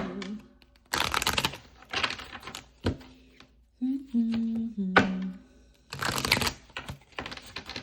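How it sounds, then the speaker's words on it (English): Repeated bursts of rapid tarot card shuffling, riffling in quick clusters separated by short pauses and brief humming-like voice sounds. "let's shuffle these cards"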